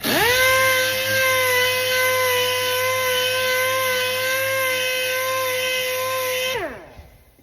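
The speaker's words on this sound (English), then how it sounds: "The soft interface pad just allows it to sand over these rolls really smoothly and neatly without taking any of the shape away." An electric sander fitted with a soft interface pad works over a rolled car body panel, a steady, close, high-pitched whirring hum that holds even for several seconds before spinning down and fading.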